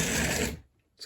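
Small electric motor of an HO scale Mantua F7 model locomotive running with a loud, steady whirring buzz for about half a second, then cutting out, followed by a faint brief noise.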